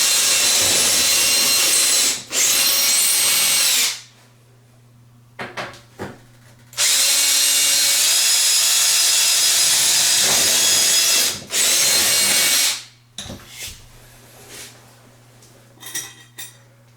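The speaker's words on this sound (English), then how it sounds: "Drill a hole." Power drill boring a hole while installing a radiator baseboard heater and bleeder valve, loud high whining bursts of a few seconds each, separated by short quiet gaps with small clicks and handling noises.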